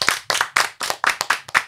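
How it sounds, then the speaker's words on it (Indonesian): A small audience at a campus podcast claps in a quick run of about eight sharp, close, evenly spaced hand claps, with no voices over them. "Tepuk tangan, give applause"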